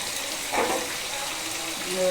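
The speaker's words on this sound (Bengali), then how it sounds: "এবারে আমি দেব কালো জিরে ফোড়ন, কালো জিরে দিচ্ছি।" Nigella seeds (kalo jeera) dropped into hot oil with hilsa fish, giving a steady soft sizzle and hiss that swells briefly when the seeds hit, heard close up beneath a speaking voice.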